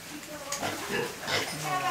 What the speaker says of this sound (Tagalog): Ito ang mga alagang baboy.